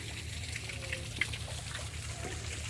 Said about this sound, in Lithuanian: Ir ten va tas ir bėga irgi šiltas vanduo.